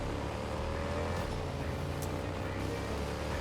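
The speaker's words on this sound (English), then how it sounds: "Let's get driving though." A car drives in the video game Gotham Knights, its engine a steady, continuous drone with road noise and a few faint higher clicks, constant in level throughout.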